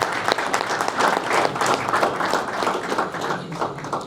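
Audience applause in a meeting hall at a committee installation ceremony, steady crowd clapping lasting several seconds at moderate loudness, with no voices.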